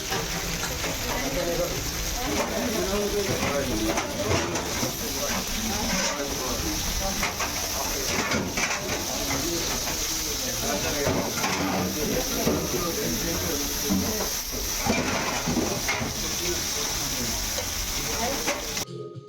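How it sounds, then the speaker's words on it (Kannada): Bangude mackerel disco fish frying on a tava at a busy Mangalore eatery, a steady loud sizzle and hiss running throughout with kitchen clatter mixed in. "ನೋಡಿ, ಇಲ್ಲಿ ಡಿಸ್ಕೋ ಮೀನು ಫ್ರೈ ಆಗ್ತಾ ಇದೆ."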